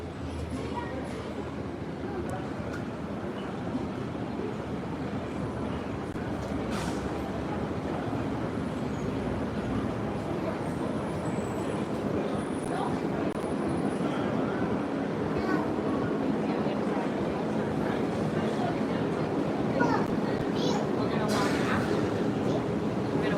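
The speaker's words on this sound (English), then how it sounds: "So yeah, you got two monorails there." Walt Disney World monorail trains, including the Epcot line, give a steady, continuous rumble and hum of rolling rail cars with faint whines and clatters, sustained throughout under occasional distant voices.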